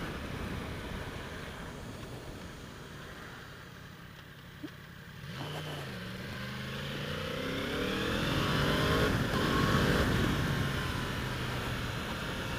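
A 2016 Yamaha R1S sport motorcycle engine under way, its revs rising and falling through several gear changes, then building to a louder sustained pull mixed with wind rush.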